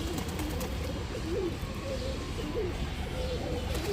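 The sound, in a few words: pigeon cooing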